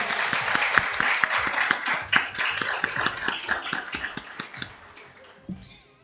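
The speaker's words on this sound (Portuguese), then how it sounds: "eu peço a todos uma salva de palmas" A memorial gathering's audience breaks into a round of applause, many hands clapping in a dense, steady patter that carries on for several seconds before thinning out toward the end.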